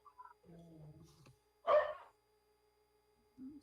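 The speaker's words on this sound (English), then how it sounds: "somebody's dog needs to go out." A dog barks once, a short loud burst in the middle of a board meeting roll-call vote, between stretches of a voice talking over steady background hum.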